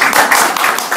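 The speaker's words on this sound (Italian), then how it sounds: "Quindi un altro applauso Bruno ci vuole, mi dispiace." Audience applause at an award ceremony in Rome, a brief burst of dense, loud clapping lasting about a second.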